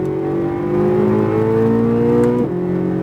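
A Chevrolet Corvette Z06 on a race track holds a loud, steady engine drone that climbs in pitch under acceleration, then drops sharply as the driver brakes and downshifts, heard close from inside.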